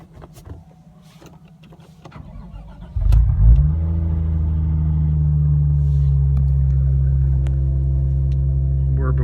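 A 1991 Toyota Soarer with a 1JZ engine starts and settles into a steady, smooth high idle, a loud continuous hum following a brief cranking burst.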